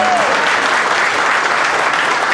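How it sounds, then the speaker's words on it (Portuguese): Loud, sustained applause from the audience at a federation congress, dense and steady from start to finish with no break. "Peço a todos vocês um momento da salva de palmas"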